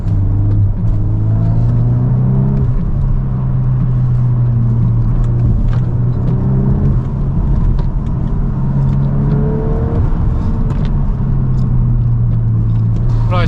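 A VW MK8 Golf R engine drones loudly inside the car on a wet road, with rising and falling engine pitch as it accelerates, and tyre rumble beneath.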